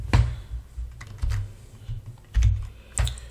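Fingers tap on a computer keyboard up close in a short, irregular run of keystrokes lasting a few seconds.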